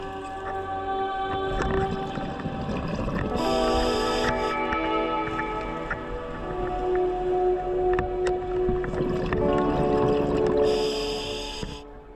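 A boat engine drones overhead, heard underwater at 22 m while scuba diving off St Peter Port harbour: a wavering tonal hum with bubbly rushes of noise swelling and fading around it.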